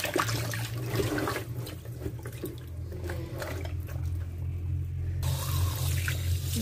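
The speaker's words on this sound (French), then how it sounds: "Maintenant, je lave avec de l'eau simple." Plain tap water runs steadily over fish being rinsed for a Congolese meal, a continuous splashing stream with low rumble that carries on throughout.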